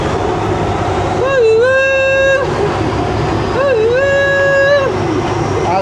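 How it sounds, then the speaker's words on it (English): Steady low rumble of a train moving through a tunnel, with two long rising-and-falling whistle-like tones sounding over it. "we're on a train. We're going through a tunnel."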